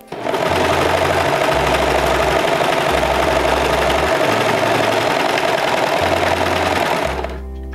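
Serger overlock machine stitching down a fabric seam, a loud, steady, fast mechanical whirr running continuously for several seconds before stopping, with a low hum pulsing beneath.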